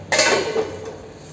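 A lid goes onto a pot of cooking semiya (vermicelli) for kesari with a single metallic clink and a brief rattle, close and fairly loud, then quiet.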